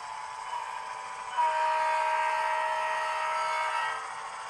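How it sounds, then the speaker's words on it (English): A BNSF locomotive idles and rumbles steadily at moderate distance while running around and coupling to its train, its engine note rising and holding louder partway through, with sustained tonal hums. "watch BNSF number 2028 conducting its runaround manoeuvres and in due course coupling up to the train"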